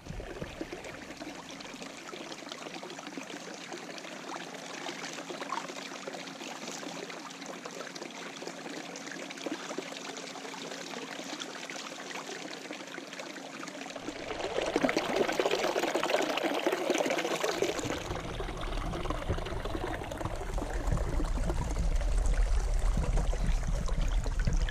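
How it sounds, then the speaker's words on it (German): Spring water pouring out of a mossy stone channel, a steady rushing trickle heard close and continuous, growing louder and fuller midway, with no talking. "Ja Leute, das ist die Quelle."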